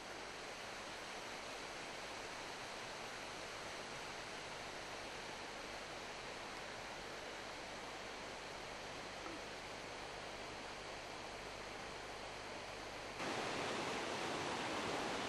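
Continuous broadband rush of water tumbling down from the hills in a stream or waterfall at a Rest and Be Thankful beauty spot, steady and close throughout, swelling slightly louder near the end, with no voices.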